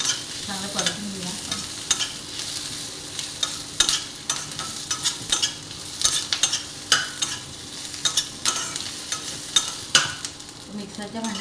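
Ingredients for urad dal amti are stirred and sautéed in a hot pan, giving continuous sizzling and frying with repeated scraping strokes of the spoon, close and clear with no talking.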